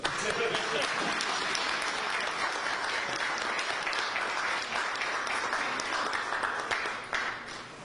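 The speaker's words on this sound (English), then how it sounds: "Let's clap for Kevin." An audience at a panel discussion breaks into steady, dense applause that continues for several seconds, with voices speaking over the clapping.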